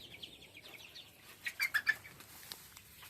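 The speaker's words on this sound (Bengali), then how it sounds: "এই যে এনে দেখেন মাশাল্লাহ অনেকগুলো বাচ্চা আছে একদম পুরো অরিজিনাল পিওর দেশি মুরগির বাচ্চা" Native chicken chicks in a farm brooding room give thin, high chirps: a few soft peeps at first, then a quick cluster of brighter calls midway. The sound is faint and close, with no talking.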